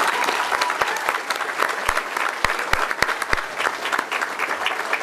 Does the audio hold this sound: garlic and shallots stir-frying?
no